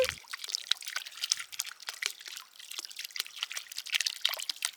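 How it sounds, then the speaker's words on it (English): Water trickles and splashes continuously in small, irregular drips from a DIY water feature, a gentle bubbling flow heard up close without any voices. "If you want to learn how to make your own soothing water feature"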